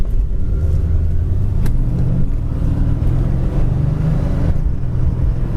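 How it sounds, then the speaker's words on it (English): A green 1970 Ford Torino with a 4-barrel carburetor and automatic transmission driving: a steady, loud, close engine rumble heard from inside the car, with slight shifts in pitch and no talking. "Transmission shifts very smooth."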